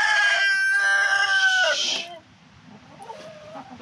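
A chicken lets out a long, loud, strained squawking cry lasting about two seconds, then falls to faint murmuring clucks close by.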